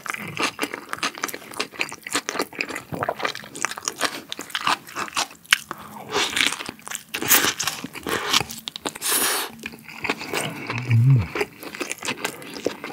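Someone bites into and chews a Subway steak and cheese sandwich up close, with repeated crisp crunches, wet chewing and rustling wrapper sounds that carry on steadily for several seconds.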